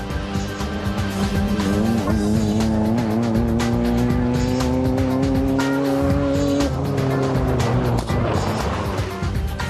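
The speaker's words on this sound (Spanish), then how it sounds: "en esta carrera campo a través participan anualmente más de 200 coches" Volkswagen Baja Bug cars racing in an off-road event, engines roaring loud and continuous with revving pitch shifts and tire noise throughout, no talking.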